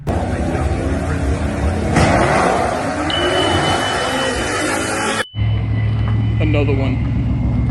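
Mustang race cars, including a 2018 Mustang GT, roar steadily at a race track, a loud engine drone with a thin whine, while people talk nearby over the noise.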